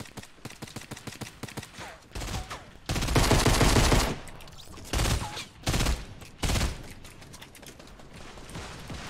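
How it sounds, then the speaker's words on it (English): Fortnite gunfire aimed at a house: a steady patter of rapid shots with several louder, dense bursts, up close and mostly alone with little talk. "I'm literally shooting this house and it's not doing anything"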